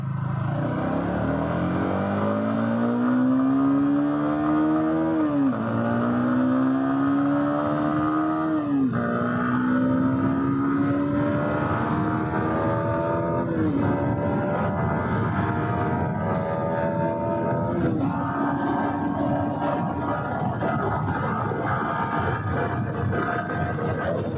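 A 2024 BS7 Yamaha MT-15 motorcycle accelerates hard during a top speed run, its engine note climbing steadily with several brief dips as it shifts up, loud and continuous with no talk.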